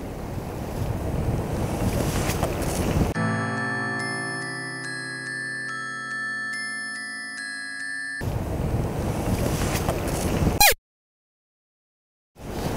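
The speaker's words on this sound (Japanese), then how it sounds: "ちょっと風がマジで強いな" Strong wind buffets the microphone on an outdoor shore while fishing, a loud continuous roar that cuts out midway, returns, then stops abruptly.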